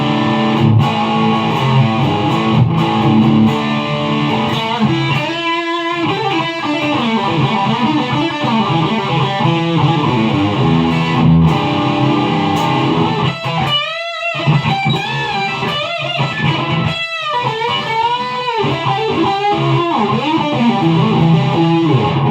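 An electric guitar plays high-gain distorted tones through a small Fender Mustang amp, with loud, thick chords and riffs, short pauses and bent notes, played alone without talk.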